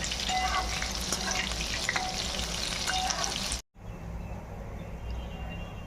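Kalve (clam) bhaji frying in oil, with a steady crackling sizzle close up, briefly cut off by a short gap before the bubbling frying resumes a little quieter.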